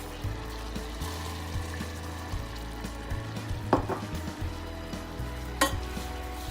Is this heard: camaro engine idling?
no